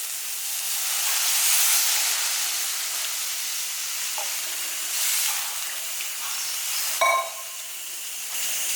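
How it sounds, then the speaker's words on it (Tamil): A pot of water with moringa leaf powder boils with a steady hiss and rolling bubbling, swelling in short surges, close by and with no talking. "இந்த முருங்கைக்கீரையை போட்டதுக்கப்புறம் நல்லா கொதிக்குது பாருங்கள்"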